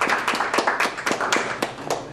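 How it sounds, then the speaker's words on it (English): A small audience claps for the weekend's world-class speakers at a volunteer guild gathering, a scattered, moderately loud round of individual hand claps with uneven rhythm. "all of us should give a resounding applause to all these world-class"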